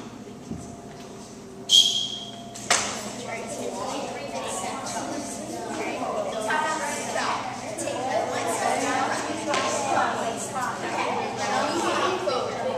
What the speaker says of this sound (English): You may begin on my whistle.